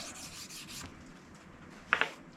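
Red jeweler's rouge is rubbed onto a leather strop in a few soft, faint scrubbing strokes, ending with a couple of slightly sharper rubbing sounds.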